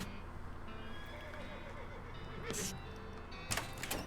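A horse named Gorse whinnies in the cartoonish western game West of Loathing, a short neigh followed by a couple of clopping hoof sounds, heard alongside game ambience.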